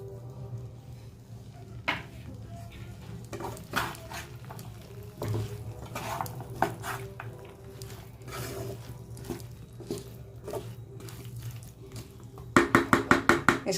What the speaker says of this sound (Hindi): इसको अच्छे से मिलाना है।